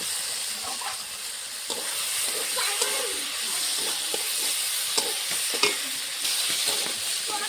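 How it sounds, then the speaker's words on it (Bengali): Potatoes, fried earlier, stir-fried in oil with a salt and turmeric spice masala for a paneer curry, giving a steady close sizzle broken by scattered spatula scrapes and taps, with no talking. "মশলার সঙ্গে আলুটা কষিয়ে নিয়েছি ভালো করে।"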